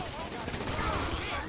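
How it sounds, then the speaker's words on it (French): Dense gunfire in a gang-war video game aimed at the player, a continuous loud rattle of shots with no gaps across the short moment. "Ouah, les gars, il me tire dessus."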